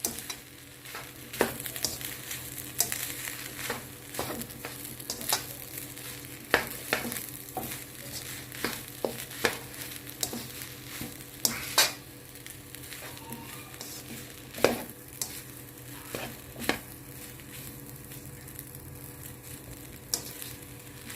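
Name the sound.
stirring egg, spinach and chorizo fried rice in pan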